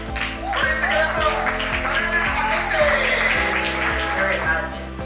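Audience applause at an NDP campaign launch for a Brampton candidate, a crowd clapping steadily and loudly in a room for several seconds over low musical backing.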